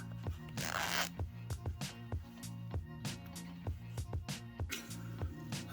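A zipper for a fabric wallet is worked back and forth close up, giving a steady run of short rasping strokes with no talk.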